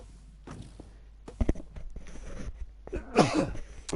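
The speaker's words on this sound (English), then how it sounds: "I'm going to sneeze." A person sneezes nearby, a short build-up of breathy sounds and shuffling followed by a sharp burst, with quiet room noise around it.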